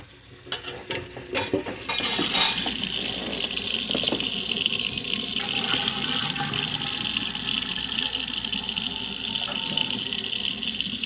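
Tap water runs into a container being filled to make lime pickles; a few clanks and splashes open it, then a steady rushing flow holds at even volume to the end.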